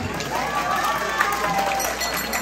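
Guests clap at a wedding reception where the bride and groom sing and dance, a steady wash of applause at moderate level with crowd noise and some background voices.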